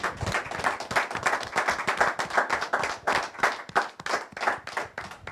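Church congregation clapping for Jesus: rhythmic, fairly loud applause with steady beats of many hands, sustained throughout without a break.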